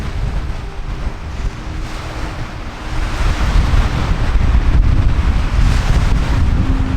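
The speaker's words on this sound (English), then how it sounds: "The wind was relentless, the cold biting, and the snow continuously stung my face and eyes" Strong, relentless wind buffets and roars across snowy Fallen Leaf Lake near Tahoe, a loud, rumbling, continuous gust that swells in the second half, with no voices.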